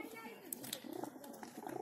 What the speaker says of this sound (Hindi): कबूतर दरबे में अपने खाने में बढ़ के घोंघो करने लगता